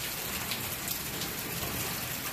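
Steady, dense rain pattering on surfaces during a hammock setup outdoors, a close, even hiss with fine droplet texture throughout and no voices.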